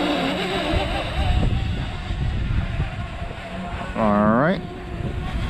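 Strong wind gusts roar across an outdoor microphone while a DJI Mavic Mini drone hovers in extreme wind, a steady rushing blast throughout with a brief whining tone near the end; someone speaks briefly.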